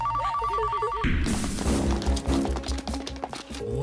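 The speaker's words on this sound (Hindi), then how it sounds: "उठा, फोन उठा।" An old-style telephone bell rings in a short repeated burst, loud and close, before a sudden clatter and commotion take over.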